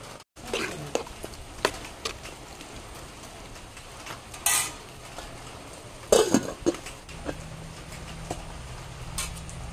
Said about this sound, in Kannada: ಈಗ ನಾನು ಇದಕ್ಕೆ ಕೆಸುವಿನ ಗಡ್ಡೆಯನ್ನು ಹಾಕ್ತೇನೆ.